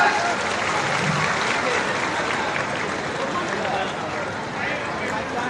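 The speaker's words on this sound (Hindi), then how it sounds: "जोरदार तालियों के साथ" Loud applause from a crowd at a government ceremony honouring pilgrims with shawls and garlands, a sustained wash of clapping with voices mixed in underneath throughout.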